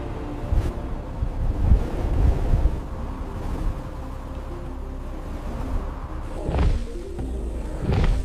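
Strong wind gusts roar and buffet steadily across an open landscape, with loud rushing surges rising and falling throughout and no voices.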